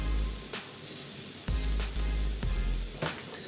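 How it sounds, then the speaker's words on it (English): Vegetables searing in a hot pan for ginger pork, a steady close sizzle with bursts of louder crackle as they are tossed and stirred, no voices. "Want to sear them off. Get a little bit of colour on them, a little bit of caramelization."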